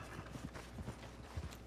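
Horse hooves clip-clopping in Red Dead Redemption 2 Online as a called horse arrives, a few irregular soft thuds over low game ambience, fairly quiet.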